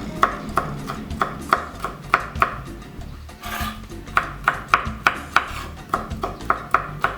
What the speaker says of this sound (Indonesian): Cabai hijau dipotong kecil-kecil seperti ini.